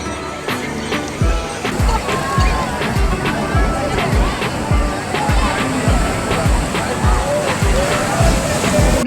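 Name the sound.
sea waves at Puri beach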